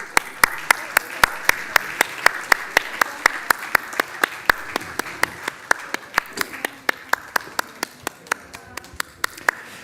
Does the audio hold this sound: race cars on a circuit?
no